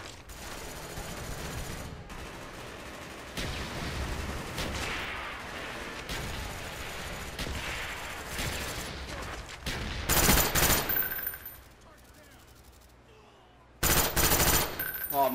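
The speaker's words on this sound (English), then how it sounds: "Friendly mortar inbound." A mortar strike in Call of Duty Black Ops, heard as sustained rapid gunfire with dense overlapping blasts, then two loud explosive bursts near the end, close and heavy under game noise.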